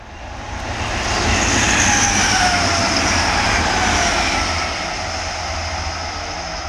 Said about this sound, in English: First old train's going north that time from King's Cross to Hull.